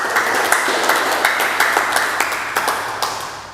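An audience at a church service held in a drug rehabilitation centre applauds with sharp, rhythmic clapping and a bright cheering wash, loud and close, repeating in steady bursts.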